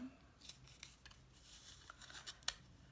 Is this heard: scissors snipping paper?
yes